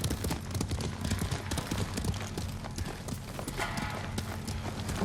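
Horse hooves galloping in Ghost of Tsushima, a steady rapid clip-clop pounding close and loud, with a faint voice briefly over the rhythm.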